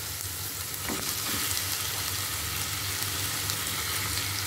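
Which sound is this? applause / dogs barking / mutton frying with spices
mutton frying with spices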